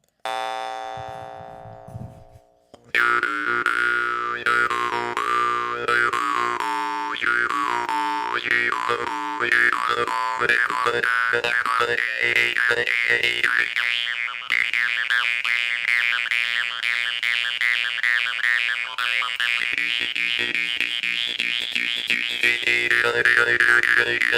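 A Mohan morchang jaw harp twangs steadily and loudly after a brief quiet start, its buzzing drone and shifting overtones pulsing in quick rhythmic plucks throughout.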